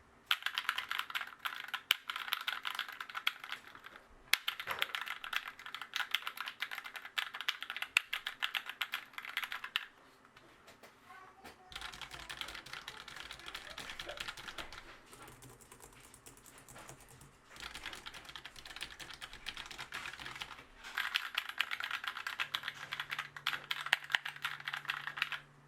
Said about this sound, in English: The MX Mechanical, which is this one, is not quite as loud. As it being brown switches,